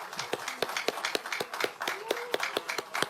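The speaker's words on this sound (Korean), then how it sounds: "선관위원들께도 고생했다고 박수 한번 주십시오" Lawmakers at a People Power Party caucus meeting electing a new floor leader clap in a sparse, uneven rhythm of distinct claps, with someone speaking over the clapping.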